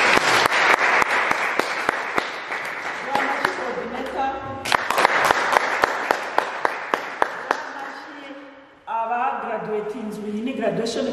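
A graduation crowd claps loudly for the teachers with dense, sustained applause and sharp individual claps, a voice speaking through it before a quieter stretch with someone talking over the sound system.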